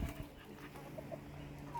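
Farm hens cluck softly in a few short, scattered calls against a quiet evening background after feeding, the birds sounding a little distant and low in level.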